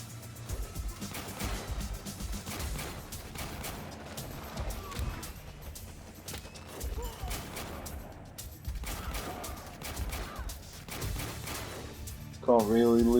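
Sniper gunfire in the strategy game Warpips rings out as repeated sharp cracks over a dense, continuous battlefield din of explosions and other shots, with a brighter burst near the end.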